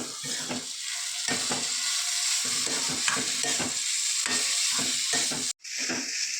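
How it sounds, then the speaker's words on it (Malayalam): Grated coconut being gently heated and stirred in a hot pan, with a soft continuous sizzle broken by repeated scraping strokes of a spoon against the metal. "തേങ്ങ നല്ല മൂപ്പിച്ചെടുക്കുകയൊന്നും വേണ്ട, ചെറിയ രീതിക്കൊന്ന് ചൂടാക്കിയാൽ മതി"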